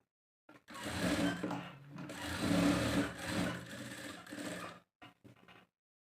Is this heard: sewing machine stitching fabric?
yes